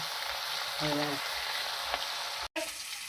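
Pieces of Bhola fish fry in hot oil in a home kitchen, giving a steady close sizzle with a brief stir and a short break in the sound.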